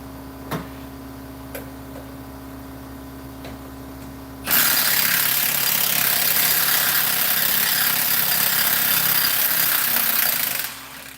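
Half-inch shorty impact gun working on a 2003 Ford Ranger during a timing chain cover gasket job, a loud, continuous buzzing burst of about six seconds after a few quiet ticks, close by.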